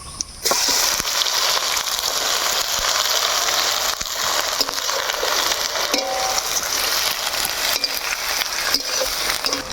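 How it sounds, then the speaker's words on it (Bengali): Chopped onion hitting hot oil already seasoned with cumin, dried chilli and bay leaf for duck curry, with a loud, constant crackling sizzle after a sudden start, plus occasional stirring scrapes. "তেল কিন্তু বেশ ভালোভাবে একদম গরম করে নিয়ে নিয়ে এই সময় দিয়ে হচ্ছে পেঁয়াজ কুচি"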